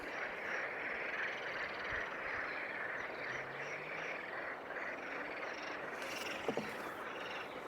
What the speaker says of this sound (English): The frogs are sending me a welcome.